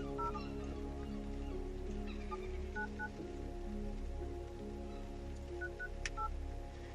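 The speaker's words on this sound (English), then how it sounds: "I'm just gonna call him directly on the mobile phone." A number is dialled on a mobile phone, giving a few short, soft keypad tones in irregular pairs over a steady low background hum, with no talking.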